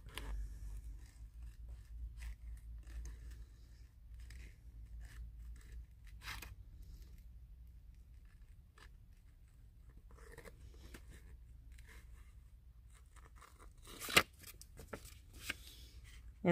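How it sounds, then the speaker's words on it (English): Scissors cutting paper up close in a quiet craft setting, a series of soft, crisp snips and rustles at an irregular pace, with a few sharper cuts near the end. "I'm basically not moving my scissors as much as I'm moving the paper."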